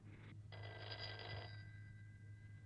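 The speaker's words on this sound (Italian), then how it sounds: "Dannati telefoni, stupida invenzione." An old-style telephone bell rings in two quick bursts, a short ring then a longer one, clear and close over a low steady hum, with no voices.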